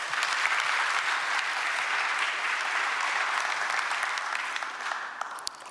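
Sustained applause from an audience at a Korean government policy report presentation, a dense even wash of clapping that holds steady and then slowly tapers toward the end.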